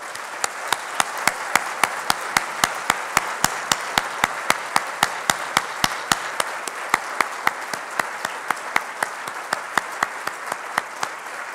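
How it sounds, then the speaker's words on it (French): Sparse, evenly spaced hand claps ring out at a trade-policy presentation in Quebec, sounding like a small audience applauding steadily, fairly near and moderately loud, with no talk over them. "aidez-moi à les récompenser avec vos applaudissements"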